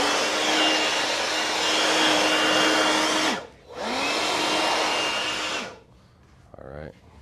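Air blower blasting dust off a sanded epoxy countertop, a loud steady whoosh in two long bursts with a short break between, then stopping, with faint room noise after.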